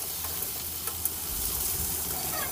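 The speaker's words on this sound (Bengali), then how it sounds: "তেল দিয়ে পটলগুলো ভেজে নেব।" Pointed gourd (potol) pieces frying in hot oil in a pan, a steady close sizzle with a few light clicks and pops scattered through it.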